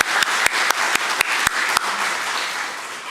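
Church congregation applauding together, a dense steady wash of clapping with a few louder individual claps standing out, tapering slightly toward the end.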